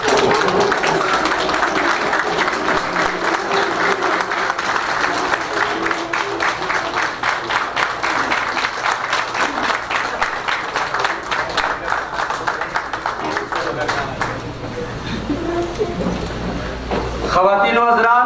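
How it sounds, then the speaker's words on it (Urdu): An audience in a hall at a Pakistan Welfare Association event in Jeddah stands and applauds, with sustained, dense clapping that fills the room for many seconds before fading out. "کھڑے ہو کر تالیاں بجا کے ان کو خراج تحسین پیش کریں"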